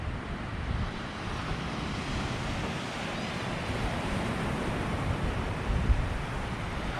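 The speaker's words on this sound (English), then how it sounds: "Love the sound of the surf" Steady, continuous roar of ocean surf breaking on a Florida beach at St. George Island, a broad hiss with slight swells and light wind buffeting, no voices.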